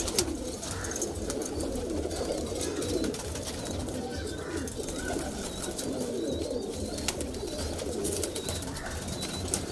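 High flyer kalpare pigeons coo softly inside a loft, a steady murmur of low calls and rustling from many birds at close range with no talk.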